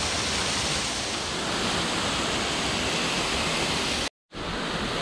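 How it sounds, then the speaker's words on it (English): Waterfall on the Franklin River in Tasmania, a steady close rushing roar of falling water, broken by a brief cut to silence just before the end. "Really cool with this waterfall."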